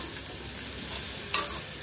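Onions fry in hot oil in a pan, a steady close sizzle with stirring, ending with a brief sharper crackle.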